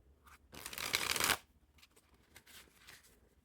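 A Bicycle Neptune's Graveyard Spectral Edition deck of thin playing cards is shuffled up close: a dense, crisp riffle burst lasting under a second, followed by softer scattered card-handling rustles.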